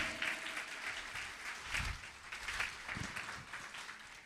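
Applause from the audience at a school annual day after a Grade 2 students' performance: steady, fairly distant clapping with a few louder swells, continuing throughout.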